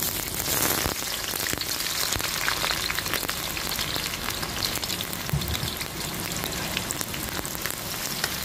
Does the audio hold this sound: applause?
no